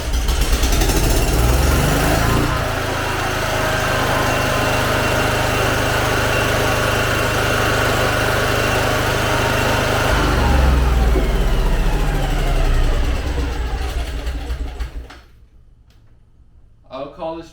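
A Honda GX620 engine on a 10k-watt generator runs loud and steady with a deep, constant drone, then cuts off abruptly near the end; talking is heard over it.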